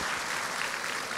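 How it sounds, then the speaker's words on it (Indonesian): A church congregation applauding together during a sermon, a dense, steady wash of clapping that fills the space evenly from start to finish. "Ada yang mau tepuk tangan? Tepuk tangan."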